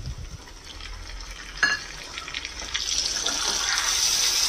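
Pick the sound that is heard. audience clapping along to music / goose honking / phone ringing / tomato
tomato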